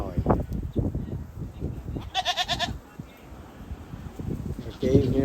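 Goats bleat on a farm in Woodstock, Illinois, a few close wavering cries breaking through near-constant talking and background farm noise.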